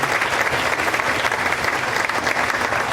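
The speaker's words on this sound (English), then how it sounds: "Let's give them a round of applause." A faculty and staff assembly audience breaks into a round of applause, dense continuous clapping filling the whole stretch at steady loudness.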